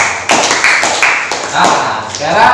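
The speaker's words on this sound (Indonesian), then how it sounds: "Tepuk tangan untuk kelompok 1 dan kelompok 2" Students in a classroom applaud two groups with a few sharp claps and taps in an uneven rhythm, close and loud, mixed with some background chatter.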